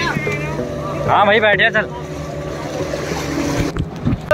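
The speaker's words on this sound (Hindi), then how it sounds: "फाइनली गाइस बोटिंग चालू हो गई है।" Boat ride on the water at a beach in Goa, with a steady motor drone and water noise running throughout while several people talk and call out over it, loudest near the start.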